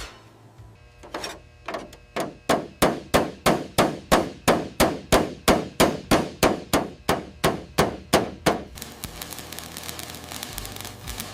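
Sharp metallic hammer blows ring out on a Honda HR-V's bodywork in a steady rhythm, about two strikes a second, loud and close, before the pounding stops and a quieter rattling follows.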